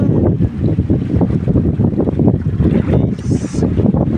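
Strong sea waves and gusting wind buffeting a longline fishing boat at night, a loud, constant churning roar with rhythmic surges of water and heavy wind rumble, no voices.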